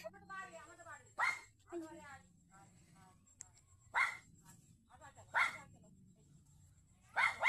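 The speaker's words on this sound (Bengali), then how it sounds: "ডগিটা কেমন চিৎকার করছে।" A dog barks and yelps several times in short bursts beside a big river in a village, loud against steady outdoor background, with a person talking between the barks.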